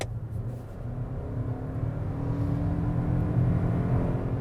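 A steady, coarse hybrid engine drone fills the cabin of a 2025 Toyota Crown Signia SUV, with a low rumble that builds gradually as the vehicle accelerates.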